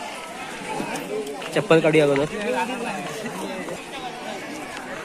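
A dense crowd mills around the Rajapur Ganga temple, a steady babble of many overlapping voices close by, with nearby talk and a brief louder burst of voices partway through.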